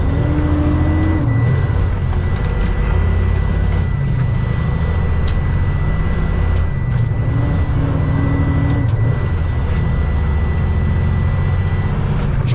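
Truck engine pulling hard after an upshift, a steady, loud low drone that holds from start to end with no break and no talk over it.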